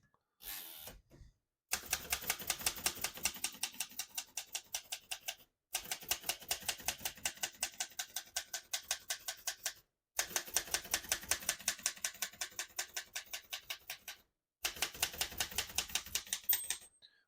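Rapid mechanical keystrokes on a 1941 Remington De Luxe Model 5 portable typewriter clack in quick bursts, four long runs separated by brief pauses, crisp and close with no talking.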